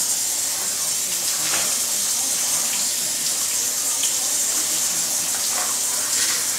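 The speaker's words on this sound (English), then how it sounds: "is I'm gonna give it a rinse." Tap water runs steadily into a kitchen sink over a raw turkey breast being rinsed, a loud, continuous close splashing hiss with no talk.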